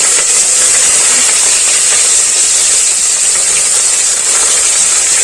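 Chopped onions sautéing in oil with green chilli, cardamom and cloves for chicken biryani in a pressure cooker, a loud, dense, steady sizzling hiss that continues unbroken throughout.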